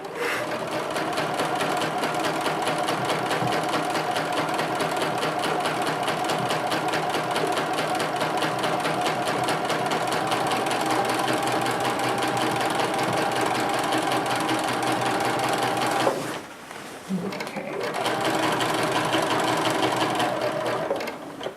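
A sewing machine quilting a grid design runs in a steady, close, continuous whir, pausing briefly near the end before starting up again.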